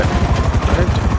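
A Buzzard helicopter in GTA 5 gives a loud, close rotor chop, a rapid steady thumping pulse that lasts throughout the brief moment.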